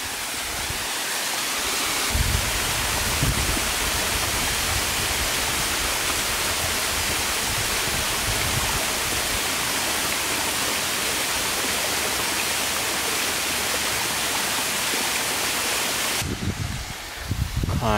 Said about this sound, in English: we get a view of the spillway falls coming off of Green Fall Pond